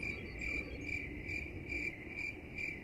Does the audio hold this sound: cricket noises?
yes